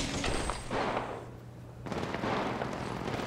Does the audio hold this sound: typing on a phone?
no